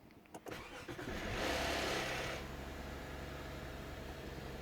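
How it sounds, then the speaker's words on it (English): A Lexus IS250/IS350 car engine cranks briefly, catches with a loud surge, then settles into a steady idle close by. "Alright, so foot on the brake, start her up."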